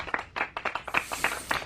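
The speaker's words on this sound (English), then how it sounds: "You can play an applause, Zach." A short burst of applause sound effect played on a livestream, quick uneven clapping, fairly close and moderately loud, no talk.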